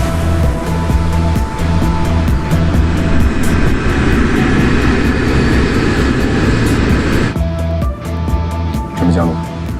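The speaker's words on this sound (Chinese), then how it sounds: "女士们、先生们，飞机马上就要降落了" A passenger airliner on its landing approach gives off a loud, sustained roar of engine noise that drops away near the end, while a voice talks over it in a dramatic scene.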